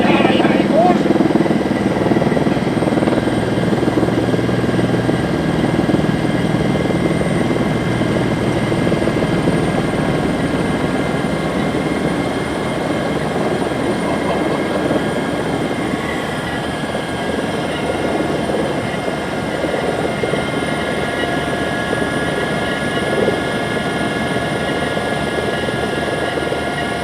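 A helicopter carrying Sinterklaas drones steadily overhead, a loud continuous rotor and engine roar that barely varies; voices of onlookers are faintly mixed in.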